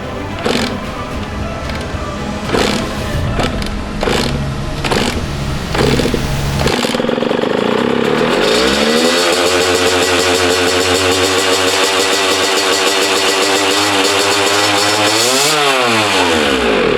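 A dirt bike roars to life after a couple of kicks and its engine revs hard and loud, rising and falling in pitch through repeated throttle blips after a few opening thumps.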